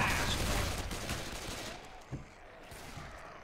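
Rapid bursts of gunfire aimed at a Hunter infected in Left 4 Dead 2, a dense, continuous volley close up with a louder crack near the end.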